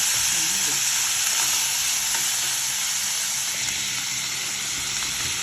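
Onion, tomato and coconut sautéing in a pan, a loud, dense, continuous sizzle and hiss held steady throughout.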